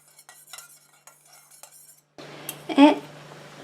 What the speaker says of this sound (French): Je viens mélanger.